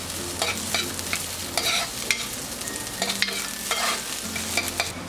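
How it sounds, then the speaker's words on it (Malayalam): Chopped shallots sautéing in hot oil in a clay pot for a Kerala prawn curry: a loud continuous sizzle with repeated scraping strokes of a spoon and a faint low hum in the background, no speech. "ഇതിലേക്ക് ചുവന്നുള്ളി അരിഞ്ഞതിട്ട് വഴറ്റി കൊടുക്കാം."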